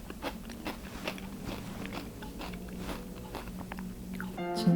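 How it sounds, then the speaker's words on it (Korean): Close crunchy bites on vegetable sticks dipped in tofu mayonnaise, a few crisp snaps and chewing spread over several seconds, quiet and up close with no talking. "요거는 소리가 좀 들어가야 될 것 같아요. 아삭아삭거리는 소리가."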